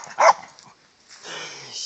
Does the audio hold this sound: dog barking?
yes